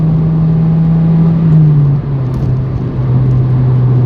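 A Toyota Yaris cruising on an open road, its engine holding a steady loud drone with road and tire rumble, the pitch easing slightly partway through, with no talking.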